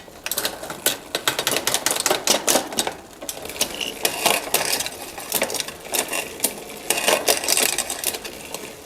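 Bicycle drivetrain run quickly through the gears, a continuous flurry of close mechanical clicks and ticks from the shifting chain and derailleur, steady and loud without talk.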